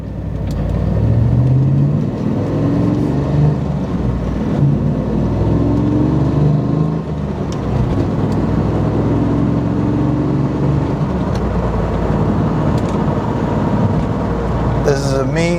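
A 1997 Chevrolet Camaro SS engine pulls through manual gears with a loud, steady roar and rising revs. A voice talks over it throughout.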